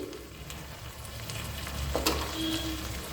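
Broccoli and potato vegetable curry being turned in a pan just after the lid comes off, soft scraping stirs over a low simmering sizzle, brief and close, with no talking.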